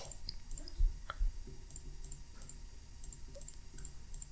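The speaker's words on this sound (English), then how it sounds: "simply by using the left mouse key clicking and the control" A computer mouse's left button is clicked a few times, giving sharp, faint, isolated clicks over a quiet hum with no talking.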